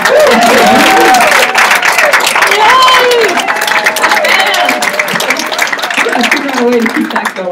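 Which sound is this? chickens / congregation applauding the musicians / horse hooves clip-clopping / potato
congregation applauding the musicians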